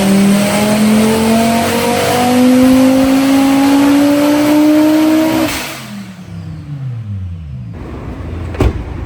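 Audi 2.5 TFSI five-cylinder fitted with Kelford cams and a 63mm turbo, revving hard and climbing steadily in pitch before lifting off into a falling, crackling wind-down, loud and close with no talk.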